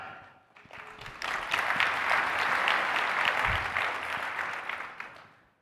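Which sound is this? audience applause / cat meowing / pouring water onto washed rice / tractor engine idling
audience applause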